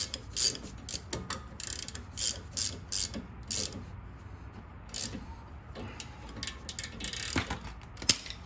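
An 18 mm socket wrench ratchets on a front brake bolt of a 2011 Toyota Sienna. Repeated bursts of quick clicking come in uneven strokes, fairly close, with short pauses between them.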